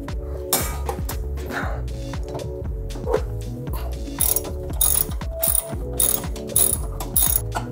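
A hand ratchet clicks in quick repeated bursts while loosening the 14 mm upper control arm bolt on an R35 Nissan GT-R during lowering spring installation, close and clear with metallic clinks and no talk.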